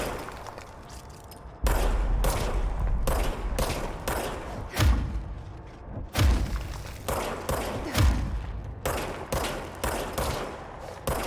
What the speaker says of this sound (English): Someone shooting at me or?